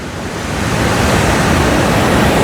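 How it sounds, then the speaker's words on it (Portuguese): Rough sea surf crashes steadily on Copacabana beach in rain in Rio de Janeiro, a loud, continuous roar of breaking waves with a broad wash of noise and no voices. "E o mar bem agitado"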